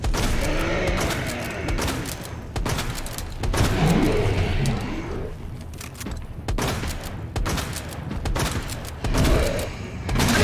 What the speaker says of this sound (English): Do flashbangs even do anything?